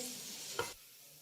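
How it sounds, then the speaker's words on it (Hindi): Sliced onions frying in oil toward light brown for beef yakhni pulao, a quiet sizzle with one brief stir scrape before the frying fades to a faint low hiss. "प्याज को फ्राई होने के लिए छोड़ देंगे। पहले इसका कलर लाइट ब्राउन करेंगे।"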